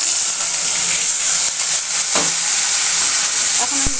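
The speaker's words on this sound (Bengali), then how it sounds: "এখন আমি দিয়ে দেবো এর মধ্যে পেস্ট করে রাখা সেই মশলা" Spice paste hits hot oil with browned fried onions, giving a loud, continuous sizzling hiss close by, with a couple of faint utensil clinks near the end and no speech.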